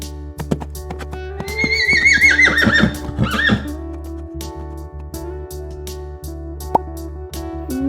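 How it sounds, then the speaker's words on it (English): A horse gives one loud, close whinny that rises and then trembles downward over about two seconds, followed by quieter snorting and a few hoof clops. "Horse."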